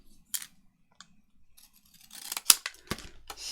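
Scissors snipping paper while trimming an edge on a handmade journal tag, a few sparse close clicks and cuts followed by a quicker cluster of snips near the end, no talk.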